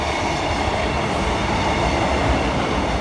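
A Class 156 diesel multiple unit, 156404, rumbles past on a line near Lincoln with a loud, steady roar that stays constant throughout.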